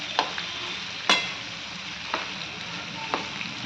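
Pieces of stuffed brinjal (eggplant) frying in oil for gutti vankaya fry, giving a steady close sizzle with a few sharper crackles and pops and one loud spatter near the start.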